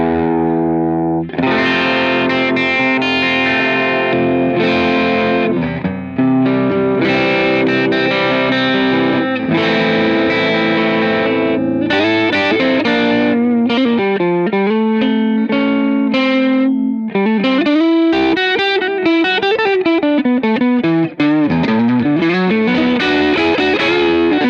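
Electric guitar played through a ToneX model of the JHS Johnny Mac Blues Machine amp, loud and continuous with driven, distorted chords and lead lines ringing out alone for about twenty-four seconds.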